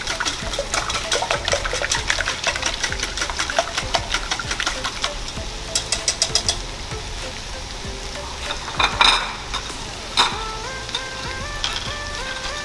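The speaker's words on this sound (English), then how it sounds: "Just whisk again." Eggs are whisked in a bowl for an egg casserole, a rapid, steady clatter of strokes at close range, with background music playing.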